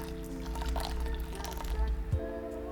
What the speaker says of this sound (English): you pour the hot water directly onto the leaves